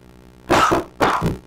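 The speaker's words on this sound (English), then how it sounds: "Coughing over here." Two quick, harsh coughs from a man close to the microphone, closely spaced and loud over a quiet background hum.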